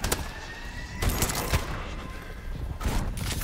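Gunfire in Call of Duty: Advanced Warfare Gun Game comes as several sharp, rapid bursts spaced a second or so apart over a busy, noisy game background, fairly close, without speech.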